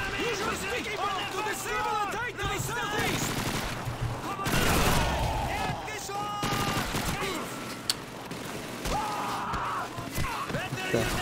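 Gunfire in the video game Call of Duty 2: scattered shots and bursts ring out around a battlefield, fairly faint and mixed with other game sounds, while a player talks over much of it.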